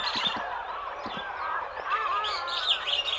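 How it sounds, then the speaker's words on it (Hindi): Bird calls in an animated folk tale, chirpy and fairly close with overlapping tones, standing in for a big black crow near a ripening amrak (star fruit) tree; a few low thumps sit underneath and no one speaks. "इतना बड़ा काला कौवा"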